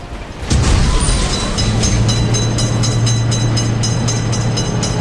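A video-game train passes an Indian railroad crossing with a loud, steady rumble and rhythmic clickety-clack of wheels on rails, kicking in sharply after a brief lead-in and holding close and heavy throughout.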